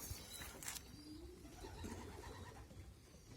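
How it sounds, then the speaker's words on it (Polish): Pigeons coo softly at a loft while feeding their young during a racing pigeon return, a few low murmuring coos repeating against steady background noise. "Gołąbki karmią."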